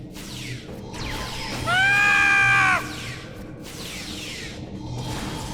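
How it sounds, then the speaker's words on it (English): A loud, wavering scream rings out in the Star Trek Online video game, about a second long, rising above a busy backdrop of game noise and whooshing effects. "Love that scream."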